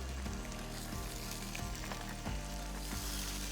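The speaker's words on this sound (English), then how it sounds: "You're gonna take each piece of turkey galantine in your frying pan," Turkey galantine pieces sizzling in hot oil in a frying pan over medium heat, a loud continuous crackle with a few sharper pops as the pieces settle, no talking.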